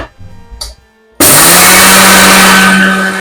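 A blender grinds flax seeds into a coarse powder, cutting in abruptly after a few quiet moments and holding a loud, steady, close-up whirring roar until the end with no talking.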